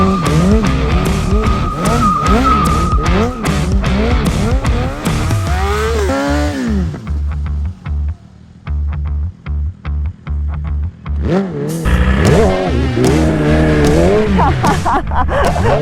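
A BMW S1000RR motorcycle with a stunt transmission drifts, its tires skidding and squealing while the engine revs hard in bursts. The sound briefly drops to choppy revs before loud skidding resumes.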